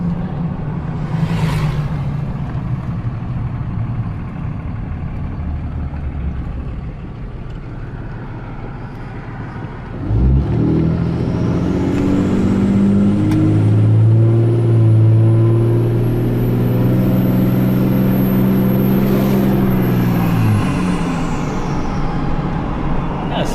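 A Cummins diesel pickup truck running a tow tune idles with a low rumble, then pulls hard from a stop sign. A deep roar builds for about ten seconds before easing off, and a voice talks over part of it.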